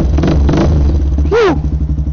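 A motorcycle fitted with an aftermarket muffler revs in a few short bursts and then rises in a sharp, whining climb. The engine is loud and close and settles back toward idle.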